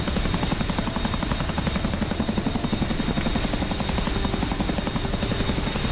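A Chinook helicopter in an early-access video game, its rotor thudding in a rapid, steady rhythm over a constant high engine whine, loud and unbroken.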